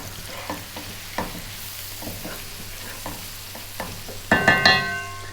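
A spoon knocks and scrapes a pan as ginger garlic paste with salt, pepper and turmeric is stirred over a soft sizzle, the taps spaced irregularly and closing with a quick flurry of clinks.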